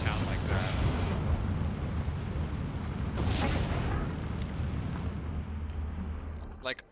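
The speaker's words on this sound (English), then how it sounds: "Why did all this artillery decide to pulverize the town like that?" Artillery shells a town in the Steel Division II war game. A dense, continuous rumble of blasts and impacts carries a few sharper bursts, then thins out near the end.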